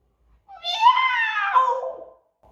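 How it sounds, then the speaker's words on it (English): A single drawn-out cat meow, close and clear, rising and then falling over about a second and a half, with silence before and after. "Meow! Said Wilbur."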